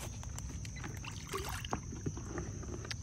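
Floodwater being scooped into a container by hand and dumped out again, with soft sloshes and splashes over a steady outdoor hiss and wind, close and moderately quiet.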